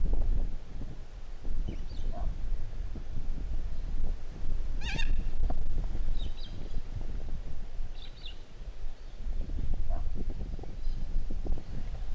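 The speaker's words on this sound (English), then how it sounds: "just out the back of the hide we've got a little corella" From behind a bird hide at a lagoon, a little corella gives a few short, harsh calls at moderate distance over a constant rumble of wind and background noise.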